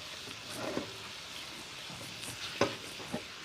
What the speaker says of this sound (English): Spring onions go in.